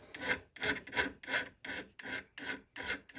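A small nail file rasps back and forth along the secondary bevel of a knife blade, about eight steady, even strokes in quick rhythm, close up and alone.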